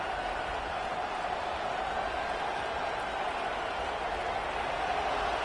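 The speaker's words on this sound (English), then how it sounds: "This crowd, full throat, splitting the eardrums and letting them know it's going to be a long day" A football stadium crowd at an FCS Ivy League game roars in a steady, dense wash of cheering that holds at full volume throughout, with no break or lull.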